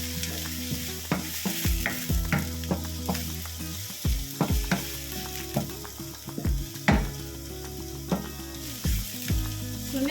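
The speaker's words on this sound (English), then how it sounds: "Let's mix everything." Chicken sandwich filling with green and yellow peppers is mixed in a frying pan: repeated scraping and knocking strokes over a steady sizzle, close and rhythmic, with a constant tonal hum underneath.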